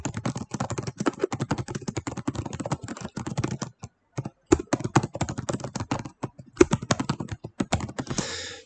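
Rapid, steady clatter of keys being typed on a computer keyboard, close and continuous with brief pauses, during typing practice for an English class.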